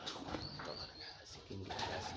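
King pigeons cooing softly at a farm, a low murmuring coo that repeats through the moment, faint and somewhat distant against steady background noise.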